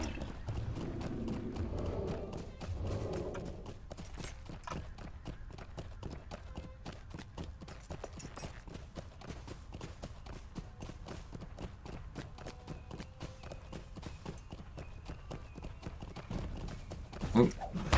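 Horse hooves galloping in Lord of the Rings Online, a fast continuous clip-clop rhythm held close and steady throughout, with game sounds in the background.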